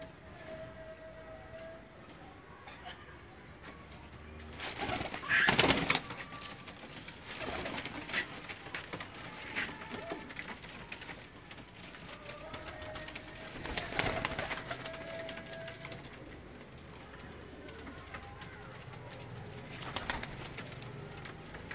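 Teddy pigeons coo softly and repeatedly nearby, with occasional wing flutters and louder rustling bursts among the birds.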